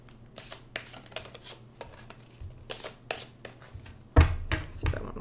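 Tarot cards are shuffled by hand in bursts of soft riffling and slapping, with a sharper, louder flurry near the end, over a faint low hum.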